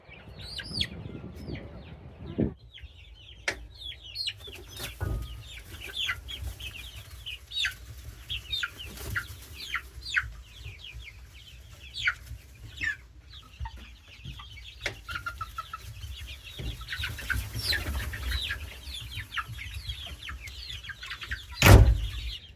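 Laying hens cluck and squawk steadily on a family farm as they are moved into a mobile coop. Overlapping calls come from nearby, with occasional wing flaps and handling clatter, and a sharp loud squawk near the end.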